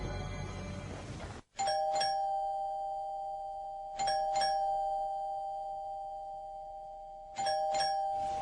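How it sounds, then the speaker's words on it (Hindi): A household doorbell rings three times in a row, each a clear two-tone electronic ding-dong. The chimes are close and loud, with a gap of about two seconds between rings, and nobody is speaking. "कितनी देर से घंटी बज रही है, आपको सुनाई नहीं दे रही?"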